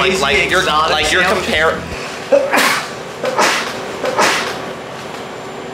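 A single sharp sneeze bursts out close by after a stretch of casual talk, followed by a couple of softer breathy sounds and quiet room noise.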